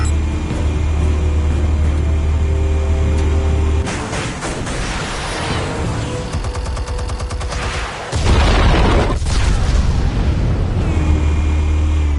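Explosives go off in Batman: The Telltale Series, a sustained roar of blasts and crackling debris with a deep rumble that drops away midway and then surges back loud.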